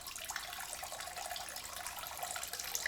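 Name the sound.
someone urinating in a bathroom toilet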